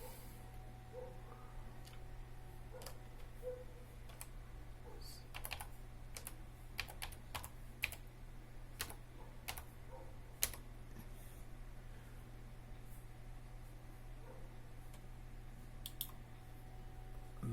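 Keys clatter on a computer keyboard in scattered bursts of quick clicks while a router password is typed, set against a steady low electrical hum in a quiet room.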